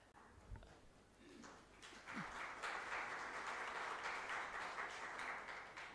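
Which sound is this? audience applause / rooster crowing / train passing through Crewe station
audience applause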